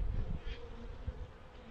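Honey bees buzzing in a hive during a winter inspection, a close, steady low drone with small swells, heard alone.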